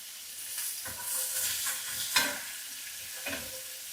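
Onion sizzles steadily in a pan over medium heat, with a constant frying hiss and a few scraping stirs from a utensil, close and with no talking.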